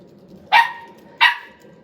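Two sharp, loud barks from a puppy during a training session, spaced about half a second apart against a quiet background.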